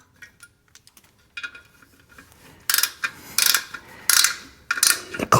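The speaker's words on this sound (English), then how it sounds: "I'm just going through the torque sequence on the clutch now after doing the flywheel." A torque wrench ratchets and clicks while a clutch's bolts are tightened in a star pattern after a flywheel install, first in faint scattered clicks, then in loud, close bursts of rapid ratcheting repeating toward the end.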